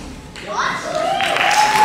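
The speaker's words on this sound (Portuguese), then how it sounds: "Uma salva de palmas" Applause from an audience at a music show swells in the second half of a short moment, with a voice and a bright tonal sound carrying over the clapping.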